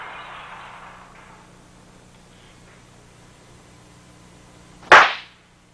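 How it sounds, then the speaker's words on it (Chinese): A single firecracker goes off in one sharp, loud burst after several seconds of near silence. "鞭炮爆炸"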